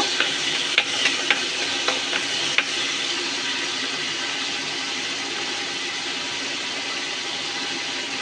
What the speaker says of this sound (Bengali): ছোট ছোট কুচো চিংড়ি মাছ, বেশিক্ষণ ভাজা লাগবে না